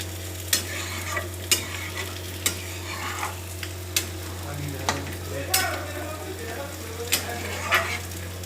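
Prawns fry in a pan over a gas flame, a steady sizzle broken by sharp, regular scrapes and clinks of a spatula stirring roughly every second, close and clear with a low hum beneath.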